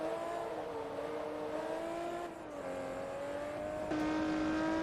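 Race car engines in Forza Motorsport 2 drone steadily at high revs, a near car's tone wavering and shifting as a Ferrari spins out, with a sharp gear change near the end.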